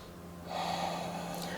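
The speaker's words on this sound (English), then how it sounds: "Breathing here for 3" Loud, close breathing from a yoga instructor holding a long pyramid lunge, a steady rushing breath that swells after a brief softer start.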